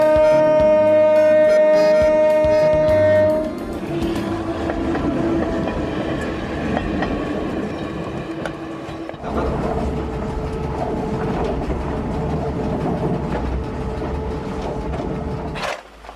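An electric train runs on tracks, loud and close, with a tonal horn-like hum at the start giving way to a steady rolling rumble and rattle of wheels.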